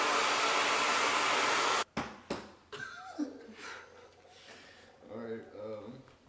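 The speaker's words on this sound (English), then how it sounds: "as soon as you put the blow dryer on" A blow dryer roars loudly for about two seconds while styling natural hair, then cuts off abruptly; afterward people talk nearby with a few light clicks.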